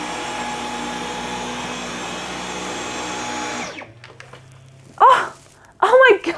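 Dyson V11 cordless vacuum cleaner on its lowest mode, picking up tea leaves, whirring steadily and close by before cutting off abruptly, followed by a person speaking.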